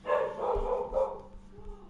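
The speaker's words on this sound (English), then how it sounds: "so if you hear barking, that would be why" A dog being looked after for the weekend gives a short bark or two, fairly close and moderately loud in a quiet room.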